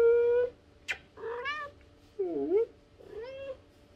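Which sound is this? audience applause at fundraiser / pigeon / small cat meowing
small cat meowing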